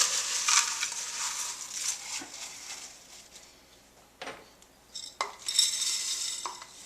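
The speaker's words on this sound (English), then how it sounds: "Couple cups of crushed tortilla chips." Tortilla chips are crushed inside a jar, giving crisp crunching and rattling bursts of moderate loudness, spaced irregularly with quieter gaps between them.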